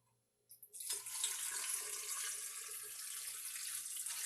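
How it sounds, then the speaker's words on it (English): Water pours steadily into a food-safe fermenting jar, a bright continuous splashing stream that starts abruptly after a moment of quiet and runs on close and even. "Now we'll pour the water."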